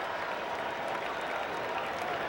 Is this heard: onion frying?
no